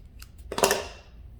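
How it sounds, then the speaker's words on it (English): Scissors make a single crisp snip through a ply of yarn while the weft colour is changed on a handwoven scarf. A couple of faint ticks come just before the cut in a quiet room. "I'm just going to snip it."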